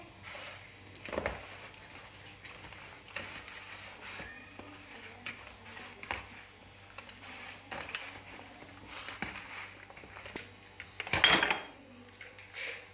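Spices for aloo tikki, cumin, chili and whole coriander, being stirred in a bowl: faint scrapes and light clinks of a spoon against the dish, sporadic, with a louder clatter near the end.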